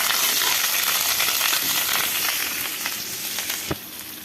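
Dry red chillies and curry leaves sizzle in hot tempering oil for Andhra sambar, a bright, crackling hiss that runs steadily and eases off slightly toward the end, with one sharp knock near the close.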